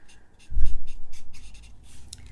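A marker's brush tip scratching and swishing across a greeting card while colouring in trees, close and soft with rhythmic strokes and low thumps of the hand on the table.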